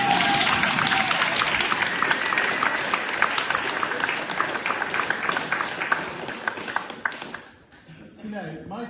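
An audience at a speech breaks into loud, dense applause that holds steady and then fades out near the end, with some crowd murmur mixed in beneath the clapping.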